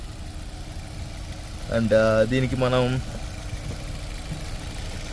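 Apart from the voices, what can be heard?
1.2 litre petrol car engine idling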